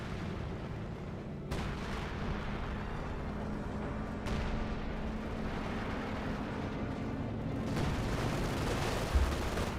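An incendiary artillery barrage lands during a Company of Heroes 2 match, rumbling blasts and crackling fire rolling in waves with sharp new impacts every few seconds, busy and continuous without any speech.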